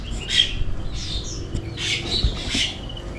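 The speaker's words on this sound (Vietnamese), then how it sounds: "Đây, đây là mấy con chim phượng hoàng đất của mình." Captive ground hornbills give harsh, raspy squawks in about four separate bursts at moderate loudness, with no voices and a faint background rustle.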